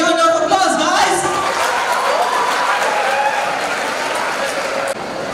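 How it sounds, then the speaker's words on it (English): Audience applause at a Republic Day celebration at a group of institutions in Nizamabad: a dense, steady wash of clapping mixed with crowd voices, loud throughout and dipping slightly near the end. "Big round of applause, guys!"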